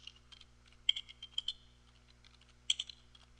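Someone types text on a computer keyboard in scattered quick bursts of light key clicks, close and fairly quiet over a faint low hum, with no voices.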